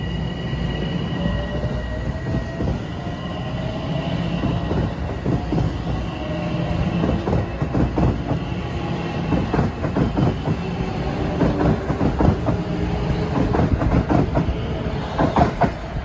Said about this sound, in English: I just stepped off train 737 at Scarborough station on the Hudson Line.